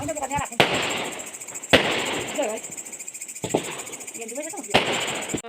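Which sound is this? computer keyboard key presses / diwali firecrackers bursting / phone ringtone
diwali firecrackers bursting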